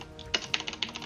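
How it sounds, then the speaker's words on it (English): Rapid keystrokes clack on a computer keyboard during a livestream, a short run of about five sharp clicks close to the microphone over faint background hum. "stop typing"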